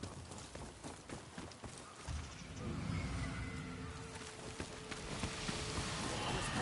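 Horse hooves clip-clopping in the video game Ghost of Yotei, a steady run of close, distinct hoofbeats that settles into a denser trotting rhythm over a continuous outdoor ambience.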